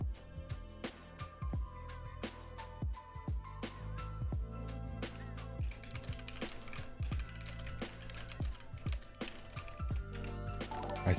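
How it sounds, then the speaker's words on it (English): Rapid keyboard typing over steady background music, with quick irregular key clicks running throughout at moderate loudness. "I saw this in chat and I'm just typing it here."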